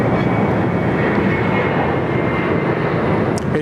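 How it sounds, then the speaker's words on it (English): Qantas passenger jet rolling for departure at Sydney Airport, a loud continuous engine roar that stays steady and broad throughout, with faint background voices. "Qantas 87 off to Seoul this morning"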